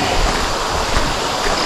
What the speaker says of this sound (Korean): 여기 조그마한 개울가를 건너야 되네요, 보니까.